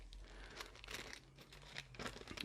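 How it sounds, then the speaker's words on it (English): A plastic bag crinkles and crumples continuously as it is handled and opened, loud and close, with irregular rustling bursts during a motorcycle fork seal job on a Suzuki Intruder VS1400. "Grab yourself some sort of plastic bag"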